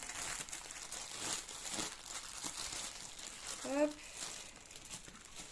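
Crinkly plastic packaging being unwrapped from a diamond painting coaster, close and steady rustling and crumpling that runs the whole time, with a brief spoken interjection partway through.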